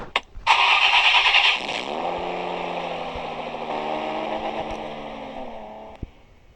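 A car engine in the Minecraft video game cranks over with a sharp burst, then settles into a steady, close, fairly loud idle hum that fades slightly before a brief click near the end.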